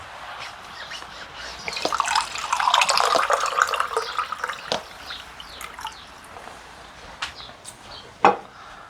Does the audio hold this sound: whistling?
no